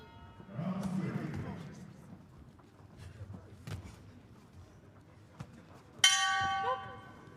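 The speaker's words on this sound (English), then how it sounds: "Bell goes at the end of the round." Boxing bell at an amateur women's 51kg bout in Kielce rings out loudly near the end, a sharp metallic strike with ringing overtones following commentary and crowd murmur.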